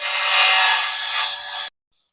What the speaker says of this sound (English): There is someone next door doing some drilling. Wow, or some cutting.